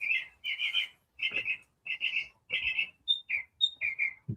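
A bird chirps very close and loud, repeating bright bursts of rapid whistled notes in short phrases with brief pauses between them.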